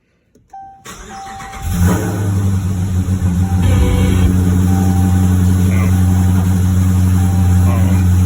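A HEMI car engine cranks and catches on its first start of the day, then settles into a steady, loud idle with a tick that continues to the end.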